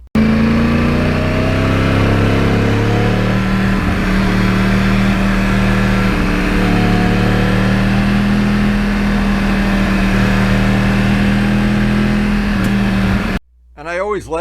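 A Yamaha R1 crossplane motorcycle engine drones loudly and steadily while riding on back roads, holding a constant pitch until it cuts off abruptly near the end. Speech may be partly present.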